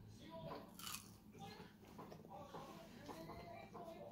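Someone eats raw egg mixed over rice with soy sauce, and close, soft chewing and biting noises repeat irregularly. Faint background sounds and murmuring run underneath.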